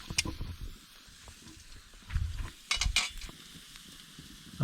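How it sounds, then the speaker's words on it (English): Steak sizzling in a pan over a backcountry campfire, a steady soft frying hiss broken by occasional scrapes and clatters of improvised wooden tongs, with a couple of louder bursts partway through. "Steak's on."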